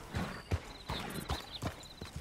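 Horse hooves clip-clop in the video game Red Dead Redemption 2, a steady run of close, crisp strikes with occasional louder thuds over faint ambient background.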